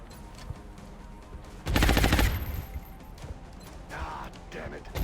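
Gunfire in XCOM: Enemy Unknown, a burst of rapid automatic shots lasting about half a second, much louder than the game background around it. A few faint impact sounds follow, and someone talks quietly.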